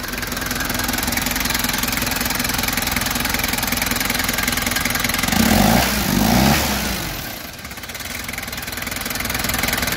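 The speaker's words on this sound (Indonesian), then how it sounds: "mesin tidak ada ngobrolnya, suara juga masih sangat renyah" A 1983 Toyota Land Cruiser BJ40 4x4 diesel engine idles close by with a low knocking rumble, briefly revving up twice before settling back to a lower hum.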